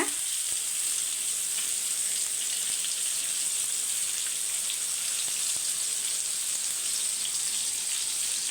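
Fish frying gently in oil in a pan on low heat, a steady even sizzle throughout, fairly soft and close with no talk.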